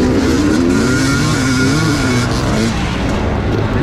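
Amateur motorcycles racing the first lap of a Buckhorn GP round in Glide, Oregon, their engines a loud, continuous, close roar with shifting pitch as they accelerate.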